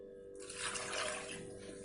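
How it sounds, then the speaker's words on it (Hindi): Water pours into a pressure cooker holding elephant foot yam and velvet beans for pickle, a soft splashing rush that swells and fades over about a second, faint and close. "और इसमें अब हम पानी डाल देते हैं।"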